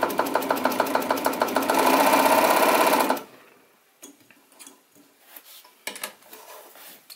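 A PFAFF 92 sewing machine running a stitch, a fast steady mechanical whirr with rhythmic needle clatter for about three seconds, then stopping, followed by faint handling clicks and rustles nearby.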